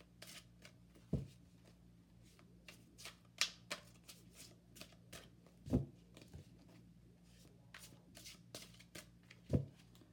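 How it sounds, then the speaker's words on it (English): Oversized tarot cards shuffled by hand: soft, faint papery rustles and slides, with a few sharper taps and clacks spaced several seconds apart in a quiet room. "So I got to shuffle them in a different way here."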